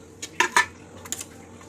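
Eggs dropped into a pot of simmering tomato curry, a few sharp close clinks and knocks against the pot in quick succession, then quieter taps.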